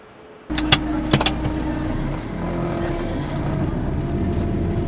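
A car fitted with new coilovers starting off on a drive, a sudden onset of a steady engine and road drone with a few clicks and thuds early on, close and continuous without talk.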